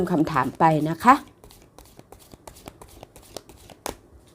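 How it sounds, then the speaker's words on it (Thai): Tarot cards are shuffled and flipped over, giving a run of soft, crisp slaps and flicks after someone speaks briefly at the start, with one sharper snap near the end. "อาจารย์จะเปิดไพ่สิบใบก่อนเลย"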